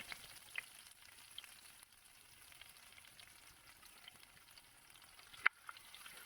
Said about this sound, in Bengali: এই পেঁয়াজটাকে আমরা হালকা একটু ভাজা ভাজা করে নেবো